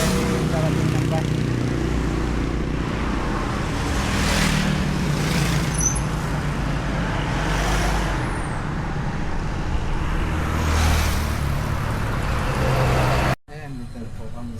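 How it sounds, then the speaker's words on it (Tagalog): A bus pulls up and drives along a highway in the Philippines, its engine rumbling steadily with passing traffic and a few whooshes of air, ending in an abrupt cut. "Karating ng bus."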